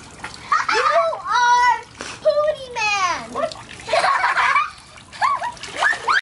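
A water balloon bursts during backyard swimming fun in the sun, with a splashy burst of water amid lively children's and adult voices shouting and laughing throughout.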